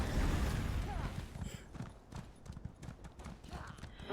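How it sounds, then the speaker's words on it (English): Horse hooves clip-clop in a steady rhythm as a mount trots in the video game Elder Scrolls Online, close and clear. A game soundscape plays along beneath the hoofbeats. "Ooh, that's a cool horse."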